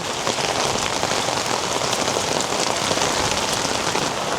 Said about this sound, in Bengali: বৃষ্টি আমাদেরকে ছেড়ে যেতে চায় না গাইস বৃষ্টি হচ্ছে